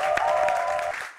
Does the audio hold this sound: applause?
yes